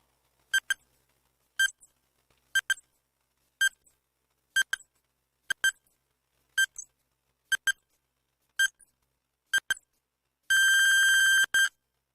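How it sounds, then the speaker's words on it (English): A quiz countdown timer ticks with sharp regular beeps about once a second for roughly ten seconds. It ends in a long, loud buzzer tone, with nothing else heard. "Timer begins now."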